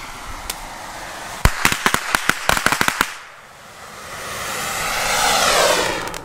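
A Dragon Banger firecracker string goes off in a rapid crackling series of about a dozen sharp bangs, one isolated pop before, then a long whooshing roar afterwards.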